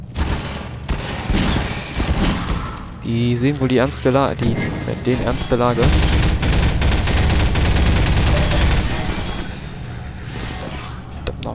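Enemies fire big guns in Minerva: Metastasis, heavy bursts of gunfire and booming shots pounding almost continuously under someone speaking.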